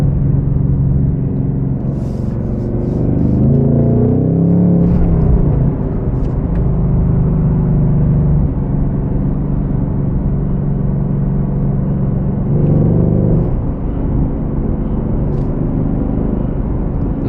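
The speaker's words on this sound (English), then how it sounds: "you can hear them over the noise of the engine whenever you start accelerating for a little bit" A 2024 Ford Mustang Dark Horse with a six-speed manual rumbles steadily from inside the cabin, rising in pitch as it accelerates with a faint intake whine layered over the engine drone.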